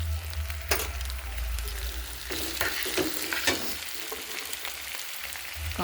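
Chopped tomato with salt fries in a pan over a village kitchen fire, a soft continuous sizzle with occasional stirring scrapes and clicks, fairly faint with a low background hum.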